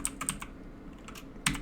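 Keys clack on a computer keyboard in a short burst of typing, several quick taps followed by a pause and one more louder keystroke, close up with no voices.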